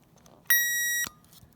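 A single sharp electronic beep sounds for about half a second from a continuity test on an eBay exhaust cutout switch, clean and steady, with quiet handling noise around it.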